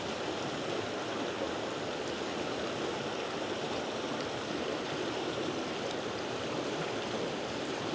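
A river flows steadily along a scenic stretch fished with a tenkara rod, making a broad, constant rushing wash at close range with no talking.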